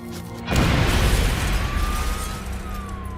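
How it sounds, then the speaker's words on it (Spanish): Mail bomb inside a padded envelope exploding at a kitchen table, a sudden loud boom with a sharp burst that settles into a long rumbling, ringing tail lasting several seconds. "La explosión hirió de gravedad al Dr. Epstein"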